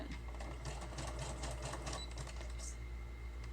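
A sewing machine stitches overlapping paper roll pieces together, running in a steady rapid whirring chatter throughout at close range.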